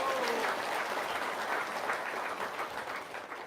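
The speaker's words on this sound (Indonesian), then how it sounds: "Tepuk tangan dong." An audience claps continuously at a talk, a dense patter of many hands heard at moderate distance that fades slightly toward the end.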